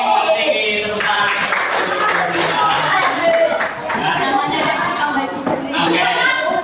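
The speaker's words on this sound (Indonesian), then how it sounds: "Tepuk tangan." Students clap in a classroom after a quiz answer during an Islamic education teaching session; loud, quick, uneven clapping from a group close by, mixed with chatter and voices.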